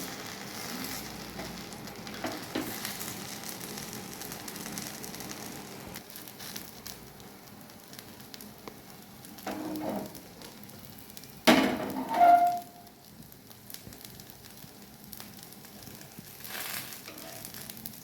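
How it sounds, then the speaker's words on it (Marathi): Panji dosa crisping in oil on a hot pan gives a soft, steady sizzle throughout, with a brief louder clatter of handling about two-thirds through. "अशा प्रकारे छान खरपूस असं भाजून घ्यायचं आहे."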